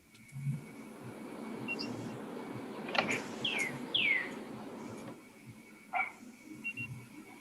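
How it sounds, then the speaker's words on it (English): Bird singing outdoors, a few short, separated chirps and whistled notes at moderate distance over quiet background noise, with faint low sounds in between. "You hear the bird? Bird."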